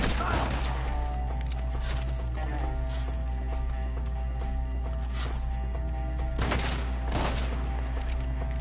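Gunfire during a shootout in the video game Red Dead Redemption 2, scattered sharp shots and booms spaced every second or two over a low constant rumble, with shouting voices mixed in.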